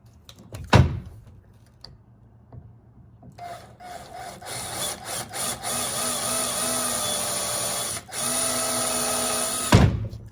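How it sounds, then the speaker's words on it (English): A power drill whines steadily for several seconds, boring a pilot hole into a wooden skateboard deck, with a couple of sharp knocks before and after. "I go in a little bit and then I pull the drill bit out"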